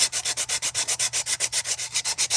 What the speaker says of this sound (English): that's where the sandpaper comes in